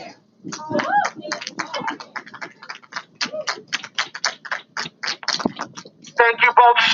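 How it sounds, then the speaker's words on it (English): Audience clapping at a housing advocacy event, a series of sharp, distinct claps from a fairly small crowd, with a louder burst and a voice near the end. "Can I get another round of applause?"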